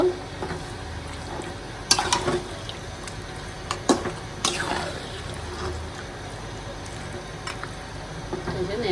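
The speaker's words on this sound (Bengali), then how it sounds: "মাংসটা দিয়ে দিলাম মাংসটা নিয়ে দেখে দিচ্ছি ভালোভাবে কষায় দেব" Meat sautéing in a pan for a Bengali-style kosha, a steady low sizzle broken by a few sharp clatters as it is turned and stirred, fairly close and moderately loud.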